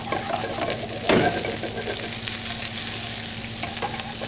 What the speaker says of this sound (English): We're going to start with our onion. Going to saute this for about 20 seconds.